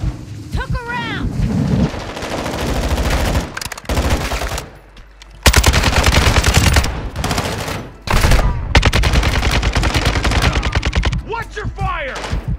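Heavy bursts of automatic gunfire in Call of Duty DMZ, loud and close, coming in long runs broken by brief pauses, with voices calling out between the shots.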